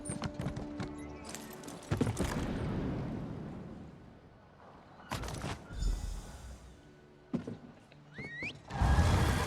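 A horse's hooves clop in Elder Scrolls Online amid a busy mix of game effects, with louder bursts and rumbles breaking in several times over the galloping rhythm.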